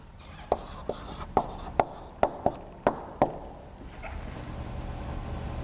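Chalk or marker taps and strokes out math on a board in a quick run of about eight sharp, close clicks, followed by quieter scraping strokes.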